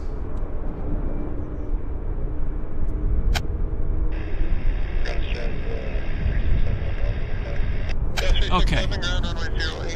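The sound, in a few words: jet airliner engines at airport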